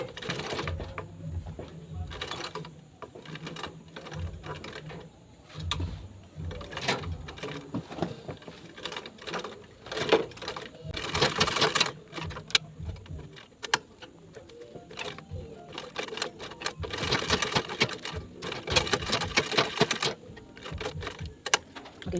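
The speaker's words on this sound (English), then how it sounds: "So now I'm going to start sewing from this angle." A sewing machine stitches along the flap edge of a fabric bag, running in loud rapid bursts separated by pauses as the work is repositioned, with a few short stops and restarts.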